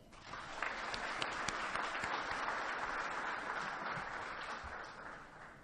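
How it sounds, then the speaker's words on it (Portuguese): Delegates at a SARPCCO police chiefs' meeting give a round of applause, steady, even clapping that swells and then tapers slightly, heard alone at moderate distance. "peço a Vossas Excelências mais uma salva de palmas"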